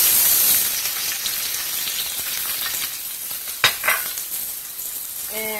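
Garlic, jalapeno and tomato fry gently in olive oil in a pan, a soft continuous sizzle with a couple of sharper clinks from a utensil or pan partway through.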